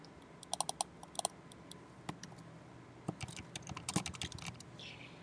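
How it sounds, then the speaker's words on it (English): Quiet clicks and bursts of typing on a computer keyboard, light irregular taps clustered in short runs, close but faint, with no talking. "So if I click, I can start typing."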